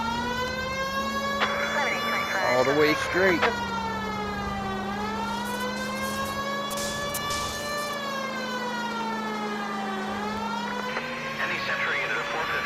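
A wailing police car siren in the video game L.A. Noire rises and falls steadily throughout, loud and continuous, with a brief spoken remark near the start.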